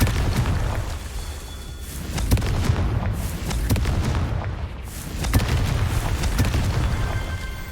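Repeated Confringo fire spell explosions in Hogwarts Legacy: loud, booming blasts and sharp bursts recurring throughout over a dense rumble of game effects.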